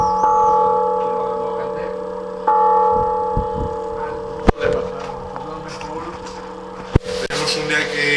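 Church bells ringing in a bell tower in Soneja, with sustained tonal peals and sharp strikes near 4.5 and 7 seconds, loud and close, and people's voices sounding faintly at times.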